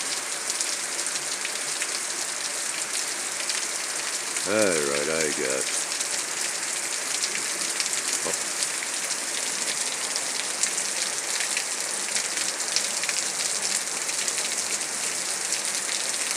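Heavy rain pours down steadily in a dense, constant hiss, while a voice briefly speaks a few words partway through.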